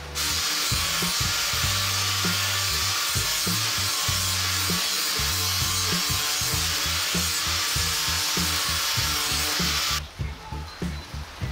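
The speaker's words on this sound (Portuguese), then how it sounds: "Vamos começar aqui a fazer esse lixamento de novo, né? Aqui com a esmerilhadeira." An angle grinder sands a motocross diorama piece with a continuous buzzing, grinding whine. The tool stays close and loud for about ten seconds, then its pitch drops as it slows and cuts out near the end.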